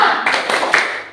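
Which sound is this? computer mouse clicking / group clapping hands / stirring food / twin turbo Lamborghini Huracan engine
group clapping hands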